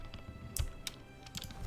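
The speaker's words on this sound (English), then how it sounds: "I'm so sorry for my loud keyboard" A computer keyboard clacks with a handful of scattered keystrokes, faint and irregular against a quiet room background.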